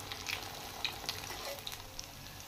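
Aloo tikki potato patties frying in shallow oil in a pan, a quiet steady sizzle with small crackles and pops scattered through it, close up with no voices.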